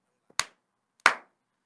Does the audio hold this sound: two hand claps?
yes